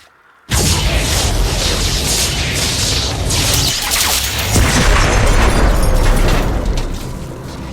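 Video game explosion as a power structure is destroyed: a sudden loud boom bursts in after a brief silence, followed by sustained roaring, crashing rumble with further bursts, slowly easing near the end.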